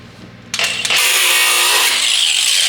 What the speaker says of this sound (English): step one, we're gonna cut this weld right here.